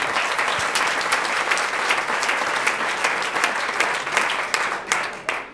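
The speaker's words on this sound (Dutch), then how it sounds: "Dus groot applaus voor deze laatste twee heren." Audience at an awards evening gives sustained, dense applause, loud and continuous, with a few sharper claps standing out as it begins to thin toward the end.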